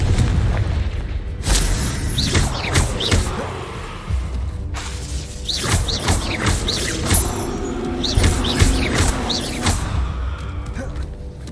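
Bombarda explosion spells from the game Hogwarts Legacy go off in repeated booming blasts mixed with whooshing spell effects and faint shouted spell names through a dense, continuous battle.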